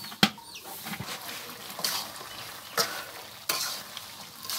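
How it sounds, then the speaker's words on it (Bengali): Chicken feet, necks and gizzards being stirred in spice paste in a pan, a soft continuous sizzle with a few sharp scrapes and knocks of the spoon, close and unaccompanied by speech. "এখন ভালো করে নাড়াচাড়া দেওয়া হইতেছে"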